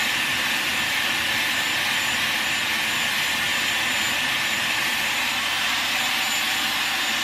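A Dyson Airwrap hair styler on its hot setting blows a steady, even rush of air, close and constant with no pauses and no talking.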